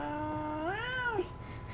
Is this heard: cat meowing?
yes